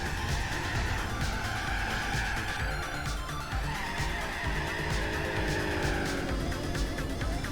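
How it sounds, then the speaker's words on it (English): A car in Gran Turismo 4, apparently the Superbird, does a long burnout in a game, its tires squealing steadily over a loud, continuous engine roar. "Oh yeah, big burnout."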